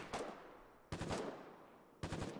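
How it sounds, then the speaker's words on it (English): Machine gun fire in the war game Foxhole during colonial frontline fighting: three separate bursts, each a quick cluster of rounds, fairly faint and distant-sounding. "A lot of shooting."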